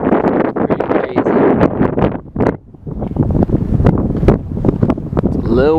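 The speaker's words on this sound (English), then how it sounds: "It's a little windy." Wind gusts across a mountain stretch of the Pacific Crest Trail near Gobblers Knob and Wrightwood, loudly buffeting the microphone with a continuous low rumble for the full six seconds.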